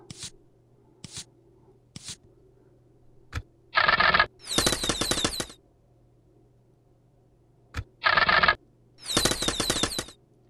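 Archer volleys in a Pocket Lords battle: a few isolated ticks, then two pairs of loud rattling bursts, each a short sharp flurry followed by a longer crackling spray of arrow hits, with pauses between them.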